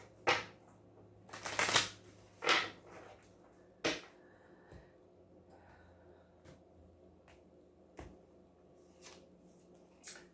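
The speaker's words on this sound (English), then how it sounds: "one more shuffle." Tarot cards being shuffled by hand in a quiet room, with several crisp riffling bursts followed by softer scattered taps and slides of the cards.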